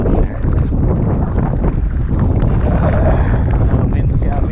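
Wind gusts across a lake while bass fishing from a boat, a steady loud broadband rush battering the microphone throughout with faint voice-like sounds mixed in.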